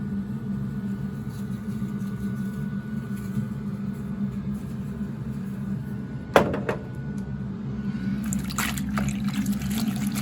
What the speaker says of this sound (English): I'm gonna put them into water to soak before I'm gonna wash them.